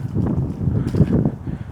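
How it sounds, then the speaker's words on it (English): Strong outdoor wind buffets an unshielded small clip-on microphone on a walk through a backyard, a steady low rumble with gusty swells and no speech. "It is really windy."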